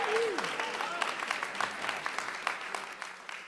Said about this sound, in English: let's give everyone who is a part of this a big round of applause